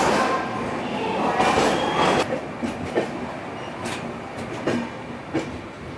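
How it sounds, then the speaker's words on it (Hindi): The Tamil Nadu Sampark Kranti superfast express pulls out of Vijayawada with a loud, close rumble of rolling carriages, rattles and rhythmic wheel clatter, while voices speak underneath. "फाइनली हो चुका है अपना विजयवाड़ा से डिपार्चर और फिर से अब नॉन स्टॉप 450 किलोमीटर ट्रेन भागेगी"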